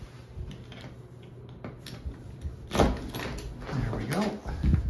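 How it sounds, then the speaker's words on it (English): A door in an office suite foyer is opened and closed one-handed, giving a few soft clunks and a latch click amid room noise and quiet handling sounds. "Trying to open and close doors with one hand can be tricky."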